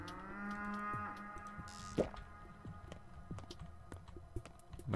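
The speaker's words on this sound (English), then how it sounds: "My cow. My kingdom for a cow." A cow moos in the video game Pathologic 2, a long drawn-out call at moderate level that fades out, followed by scattered game clicks and thuds.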